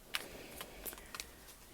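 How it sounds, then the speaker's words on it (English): Tarot cards are shuffled by hand in a few soft, quick riffling bursts, faint and close, with no voice. "that's why I'm shuffling the cards for like an eternity"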